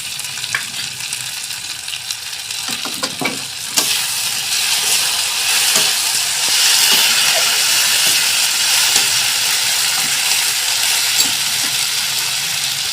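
Raw ground paste of cumin, coriander, black pepper and fennel going into a hot pan for a katla fish head curry, a sharp sizzle bursting up about a third of the way in and then holding as a steady loud hiss.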